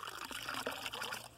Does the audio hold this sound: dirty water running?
yes